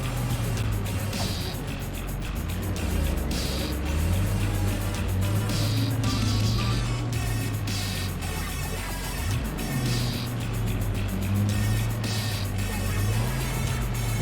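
A car in the video game Cyberpunk 2077 drives with a steady engine drone that rises and falls in pitch as it shifts, over continuous road rumble and occasional clicks.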